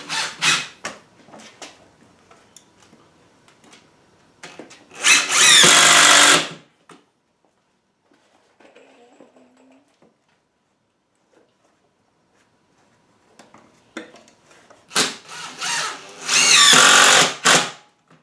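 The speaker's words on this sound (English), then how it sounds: "Putting a few extra screws around some of the more structural pieces." A power drill drives screws into a wooden rabbit house in two loud, close bursts of whirring, separated by a long quiet stretch of faint handling and tapping.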